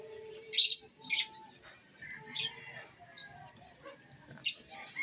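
Birds in an aviary give sharp chirps and tweets, a few loud bursts spaced irregularly with softer calls and faint coos in between, close and otherwise fairly quiet.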